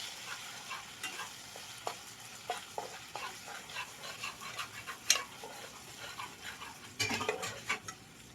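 A spice paste of onion, ginger and garlic fries softly in a pan while a utensil stirs it, giving a quiet sizzle with repeated scraping clicks and taps close by.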